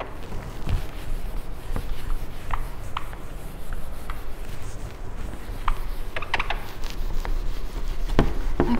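A board eraser rubs across a classroom board during a fourth-grade maths lesson, giving a steady scraping swish with several harder strokes, close and fairly loud with no voices.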